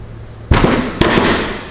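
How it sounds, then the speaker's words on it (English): Two sharp impacts about half a second apart, a hand striking a metal part while a stator is being assembled, each loud smack leaving a short ringing tail over faint background hum. "Tyler, hit that with your man hand."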